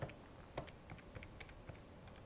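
Numbers are keyed into a scientific calculator in quick, light plastic taps that come irregularly, close by and faint, with no talk over them.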